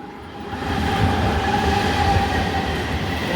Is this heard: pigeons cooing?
no